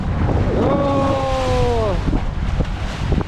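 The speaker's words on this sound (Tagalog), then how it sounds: "Lalaki ng alon guys." Wind buffets the microphone on a boat at sea among large ocean waves, a rough roaring wash with a brief whistling tone partway through and a person's short exclamation.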